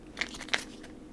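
Everyday crackers, plain and bland, being bitten and chewed, with two distinct crisp crunches close to the mic and quiet gaps between them.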